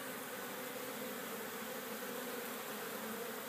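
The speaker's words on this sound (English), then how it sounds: "these honeybees are extremely friendly" Honeybees buzzing steadily and close by as they land and crawl over a person in late winter, gathering lime-green pollen from red maple flowers; a continuous, fairly faint swarm drone with no talking.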